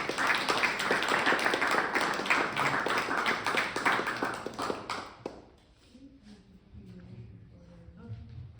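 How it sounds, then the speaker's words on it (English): Audience applause after speeches at a League of Women Voters event, dense clapping filling the room for about five seconds before fading out into quiet murmurs and faint voices. "let's have another round of applause for those speeches"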